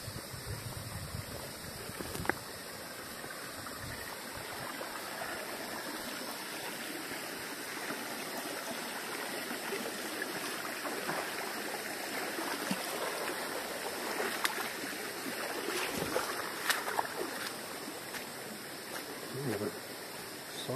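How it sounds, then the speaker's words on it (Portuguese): A large waterfall in Serra da Canastra roars in a steady, broad wash of rushing water, with faint voices and occasional knocks heard in the background. "Pelo fluxo de água, a cachoeira é bem grande"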